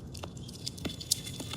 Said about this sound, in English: This is probably the stiffest gum I've ever chewed in my life.